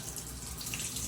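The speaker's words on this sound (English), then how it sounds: "Turn the water on." Water running steadily from a repaired shower head, a soft even hiss of spray with faint splashing, fairly quiet and continuous with no talk.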